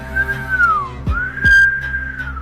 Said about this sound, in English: Inhale, exhale through the mouth in a whistle